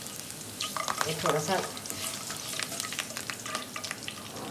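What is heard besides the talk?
curry leaves sizzling in hot oil for keema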